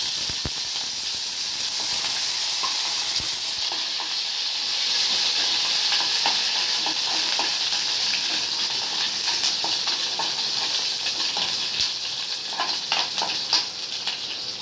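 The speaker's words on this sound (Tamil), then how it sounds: "தாளிக்கு எண்ணெய் ஊற்றி கடுகு போட்டு கருவேப்பிலை" Mustard seeds and curry leaves sizzle in hot oil, a loud steady hiss with sharp crackles and pops growing busier toward the end.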